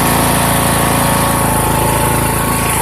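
A Poulan Pro PP175G42 lawn tractor engine runs loud and close, a steady rough throbbing drone with a fast pulsing beat that holds constant from start to finish, with no talking over it.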